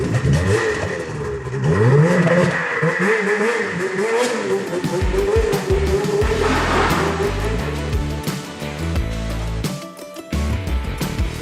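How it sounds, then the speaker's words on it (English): A Ski-Doo snowmobile engine revs up and pulls away, rising and falling in pitch as it accelerates, loud and close at first and then easing off, with a short dip near the end. "We're thinking about borrowing the snowmobile."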